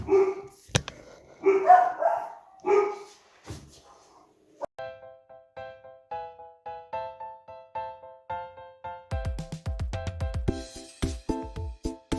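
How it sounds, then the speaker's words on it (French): Dogs barking in short bursts, fairly close, with stretches of harmonic yipping and whining between the barks. "les chiens aboient"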